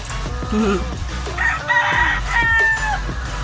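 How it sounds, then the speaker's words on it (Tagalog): A rooster crows loudly and close, followed by more crowing and clucks, with faint background voices and a low hum underneath. "Ito manok."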